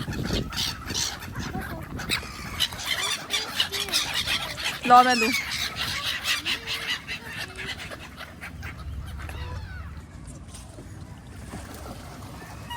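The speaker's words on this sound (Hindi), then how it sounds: "आप इन परिंदों की आवाज़ें इंजॉय करें सबसे पहले तो" In a sunny park, geese and other fowl honk and cluck amid steady outdoor noise, with bursts of calls under and between nearby speech.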